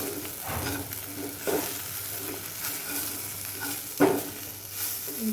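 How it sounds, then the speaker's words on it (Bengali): Ivy gourd (kundru) fries in a pan over high heat, a continuous sizzle broken by several scraping stirs of a spatula, one sharper knock near the end. "কুদরিটা আরেকটু ভাজা ভাজা হবে"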